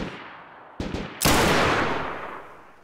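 Gunfire in an online shooter game: a couple of quick sharp shots followed by a heavy blast that booms and slowly decays, fairly loud with no talking.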